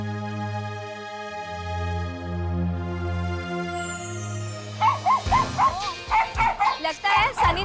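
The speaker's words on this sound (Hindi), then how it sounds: "ये किस पर भौंक रहा है?" A dog barks repeatedly in short, loud bursts in the second half, following a stretch of steady music-like tones, with no talk in between.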